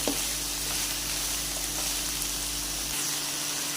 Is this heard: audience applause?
no